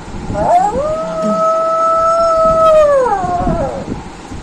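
A human voice imitates a jackal's howl: one long, sustained wavering wail that rises, holds steady, then falls away, loud and close.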